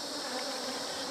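Honeybees in a small swarm at a hive drone in a steady, soft hum, fairly faint but unbroken for the whole moment.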